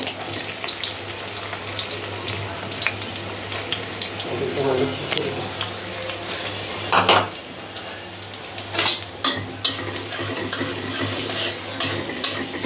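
Onions fry in hot oil in a wok before big chicken is cooked, a steady sizzle with stirring and metal scraping clatter, plus a speaking voice and a running tap nearby.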